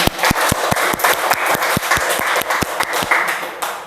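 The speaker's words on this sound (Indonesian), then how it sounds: "beri tepuk tangan buat semuanya" A group claps together in a classroom-style gathering, with crisp, regularly spaced hand claps that form a rhythmic pattern over a continuous layer of scattered clapping. The sound is fairly loud and close and lasts the whole stretch.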